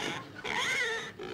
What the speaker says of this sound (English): A real live pig.